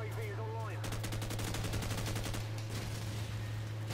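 Rapid automatic gunfire from Call of Duty: Modern Warfare rattles in a fast, even stream of shots over a constant low hum, following a brief moment of voice at the start.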